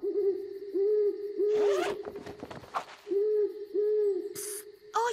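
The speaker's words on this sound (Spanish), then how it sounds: "Fue solo un búho ululando." An owl hoots at night in a cartoon scene, a series of soft, steady hoots repeating in an even rhythm, broken by a brief rustling burst in the middle.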